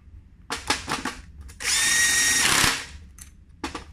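Power drill drives bolts back in to join the two wheel hubs of an all-terrain board, one sustained whirring run of about a second between short bursts and clicks, close and loud.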